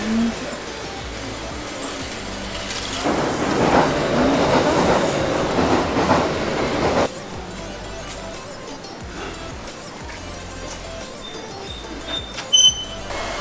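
A metro train in Osaka rumbles and rolls along the track, swelling into a louder roaring passage midway before settling into a quieter hum with faint clicks and brief high squeals near the end.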